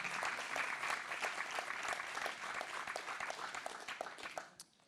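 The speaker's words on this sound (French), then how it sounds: "On peut les applaudir." An audience applauds award winners on stage at a digital transformation prize ceremony, steady clapping from a sizeable crowd that fades out at the end.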